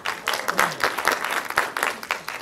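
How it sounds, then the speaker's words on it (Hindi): A crowd claps steadily at a film trailer launch, dense applause that holds an even, busy texture throughout with no letup. "एक नंबर, डबल ताली बजाइए।"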